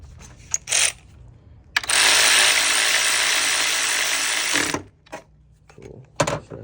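A ratchet tightens a 10mm bolt on a 2013 Kia Optima during a fuel injector job, a few short clicks followed by a long, loud continuous ratcheting burr of about three seconds, then more brief clicks close by.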